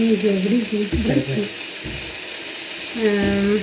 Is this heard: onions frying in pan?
yes